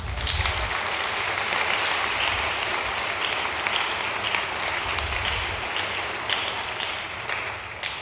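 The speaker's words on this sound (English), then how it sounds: "how about a round of applause for your own parents?" An audience at a city Board of Aldermen meeting gives a round of applause for parents, a loud, sustained burst of many hands clapping at an even level that tapers slightly toward the end.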